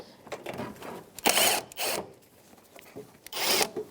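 A 10mm socket turns out a headlight mounting screw on a 2013-2018 Toyota RAV4, making a series of short scraping, ratcheting bursts of uneven length with quiet gaps between them, close by and with no talk.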